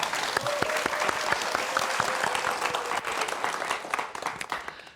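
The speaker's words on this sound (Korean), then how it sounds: "강연 박수 부탁드립니다" A room full of students at a physics lecture applauds steadily for several seconds, the dense clapping fading out at the end.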